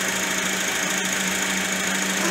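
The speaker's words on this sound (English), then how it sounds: "I got the car started back up. The engine idle speed is restabilized." A 2003 Honda Accord engine idles steadily after being restarted, a constant loud drone with an even mechanical hum throughout and no talk.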